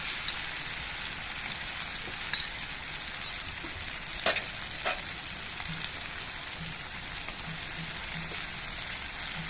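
Whisked sour yogurt goes into a hot pan of spiced paste with ground nuts and crackles into a steady, dense sizzle, with a couple of brief sharp pops and utensil clicks along the way.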